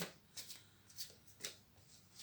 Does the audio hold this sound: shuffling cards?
yes